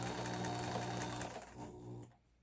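A Kenmore 158.1603 sewing machine stitching fabric, a steady close mechanical whir with rapid needle ticking that slows and stops near the end.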